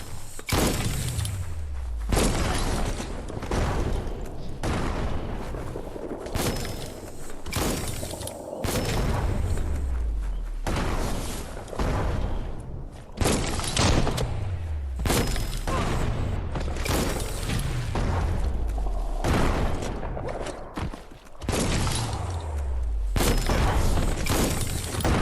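Repeated explosions from a bomb lobber enemy in Biomutant, about eight heavy booms with low rumbling tails spaced a few seconds apart over constant game noise.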